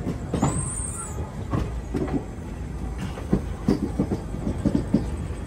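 The Narsapur Dharmavaram Express runs on rails with a steady, close rumble and repeated rhythmic clicks and clatter from the wheels.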